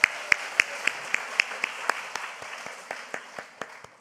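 A church congregation claps in a steady, fairly slow rhythm, each clap a distinct sharp hit at moderate distance, fading a little toward the end with no talk over it.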